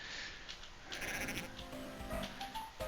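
Sheep bleating in the video game Cool Herders on Game Boy Advance, a few short wavering bleats over a steady electronic game soundtrack with no talking.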